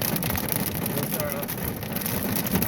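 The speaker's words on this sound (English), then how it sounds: "oh boy, it's hailing a lot harder now." Pea-sized hail pelting down during a strong thunderstorm in Reno, Nevada, a dense steady patter and rattle close by, with a voice speaking briefly over it.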